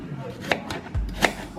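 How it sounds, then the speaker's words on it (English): Turnips being cut with a knife on a cutting board, two distinct crisp chops about three-quarters of a second apart, close by, with a low thump between them and faint background murmur. "Let me cut these real quick."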